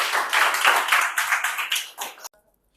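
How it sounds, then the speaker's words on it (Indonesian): Classroom applause for a student group after a presentation, a small audience clapping briskly and fairly close for about two seconds before stopping abruptly. "Kasih aplaus buat kelompok 1."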